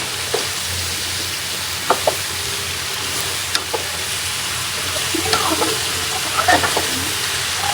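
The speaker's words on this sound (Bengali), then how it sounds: "কেটে রাখা ঝিঙ্গা আর হচ্ছে আলু এগুলো দিয়ে দিব দিয়ে ভালো মতো কষাবো" Ridge gourd and potato sautéing in a pan, a steady close sizzle and hiss of frying with occasional stirring clinks and scrapes throughout.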